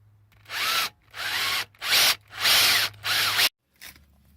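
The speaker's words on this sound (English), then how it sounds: "you drill in just enough to get a screw to grip, but not to go through that" A power drill boring a shallow screw hole in a brake caliper cover gives five loud, close whirring bursts of about half a second to a second each, separated by short pauses, then a brief faint final blip.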